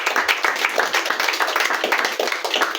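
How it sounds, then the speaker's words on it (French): Worshippers in a church congregation applaud to acclaim the Lord, a loud, sustained burst of many clapping hands with a loose, uneven rhythm, and a few voices faintly audible underneath. "On acclame pour notre Seigneur"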